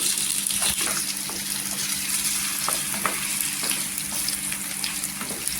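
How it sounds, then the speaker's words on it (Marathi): Ingredients for a spicy potato chutney fry lightly in oil, a loud, steady sizzling hiss close by with repeated spoon taps and scrapes as the mixture is stirred, no talking. "आपण फ्राय करून घ्यायचं. हलकासा फ्राय करायचा"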